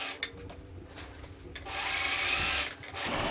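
A sewing machine stitching a quilted pillow, its needle running in short bursts and then a steady, close whirring stretch, with no talking over it.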